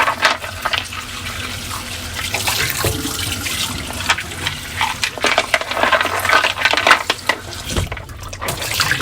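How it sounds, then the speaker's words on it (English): Aquarium rocks rinsed under running tap water, a steady loud splashing and gushing stream with rattling as the stones shift, close and continuous with no talk. "Now, I got some rocks here as well. I'm just going to rinse these off."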